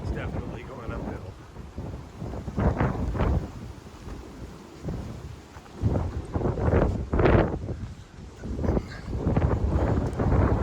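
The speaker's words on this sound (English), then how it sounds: "They said gusts of wind up to 45 miles per hour today." Strong wind gusts of up to 45 miles per hour roar across the microphone on an uphill forest trail through blowdown areas, surging and easing in repeated loud waves.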